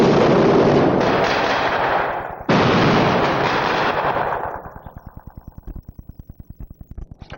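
Loud sustained volley of gunfire on a film set, two long bursts of dense blasts that fade into a series of separate sharp shots, with no voices.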